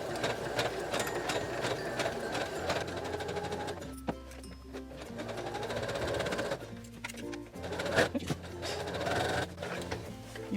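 A sewing machine stitches slowly around a circular curve on fabric for a cross-body water bottle holder bag, a steady close-up motor whir with short pauses and restarts as the work is turned.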